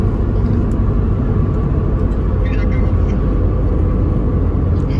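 A 1.6 Honda i-VTEC car engine with its exhaust drones steadily and loudly on a night drive through İzmir, a constant low rumble that fills the whole clip, with people talking over it.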